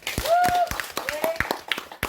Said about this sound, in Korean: 우리 모두를 위해서 박수 한번 합시다